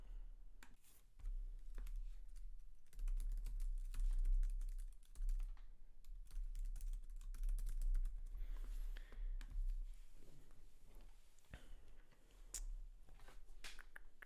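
Fingers tap on a computer keyboard in quick irregular bursts, close and fairly quiet, over a low background hum, with no speech.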